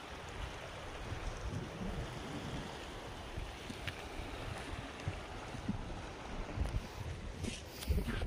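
Strong floodwater after days of continuous rain rushes past in a steady, dense roar, with occasional louder surges and splashes near the end.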